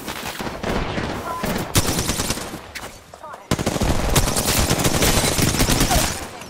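Rapid automatic gunfire from the video game Apex Legends, loud, dense bursts with a short pause in the middle before another sustained stream of shots.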